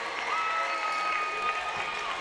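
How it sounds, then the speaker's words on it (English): A crowd at a high school boys basketball game claps steadily during a free throw, a dense, even wash of applause from the stands that carries through the whole moment. "Crowd loving it"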